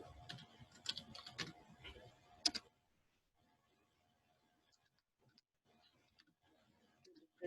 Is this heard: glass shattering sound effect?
no